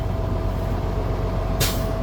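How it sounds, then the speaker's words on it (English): A 2014 Peterbilt 348 flatbed truck engine idles with a steady low rumble, then a sharp hiss of air brakes bursts out near the end as they build pressure. "the air brakes picked up pressure"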